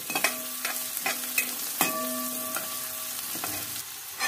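Onions and turmeric sautéing in a pan, with a close steady sizzle and spatula scrapes and taps landing about every half second, and no talking.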